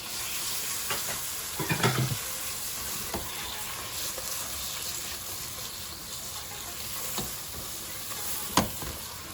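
About two medium tomatoes frying in a pan for vegetable biryani, a steady close sizzle running the whole time with occasional light stirring clicks.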